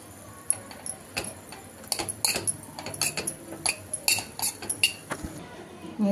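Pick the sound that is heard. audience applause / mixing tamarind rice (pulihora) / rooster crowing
mixing tamarind rice (pulihora)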